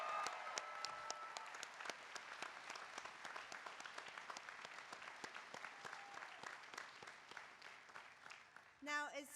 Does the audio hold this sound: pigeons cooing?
no